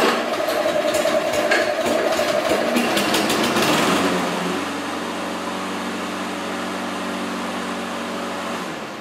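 A lawn mower engine is pull-started. A rough, sputtering burst gives way to a steady, close idle hum that runs on alone.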